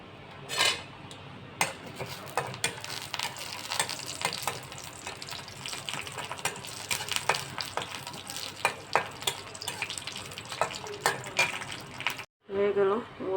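Dried red chillies fry in hot mustard oil with a steady, close sizzle and crackle, broken by repeated metal stirring and scraping against the pan, before a brief drop and a final burst of sizzling.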